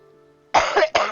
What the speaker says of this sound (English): this fucking cough, it's killing me